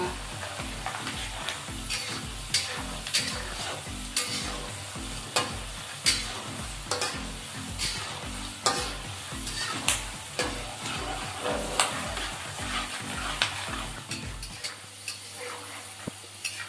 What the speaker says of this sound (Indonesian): Goreng kacangnya jangan lupa dibolak-balik ya bun, biar matangnya merata.